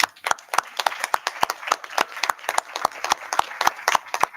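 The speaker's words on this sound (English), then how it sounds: "I'd just like to give one last round of applause for all of the hard work they've done." A small audience at a school board meeting claps together, a steady run of crisp, close handclaps for a few seconds with no talking over it.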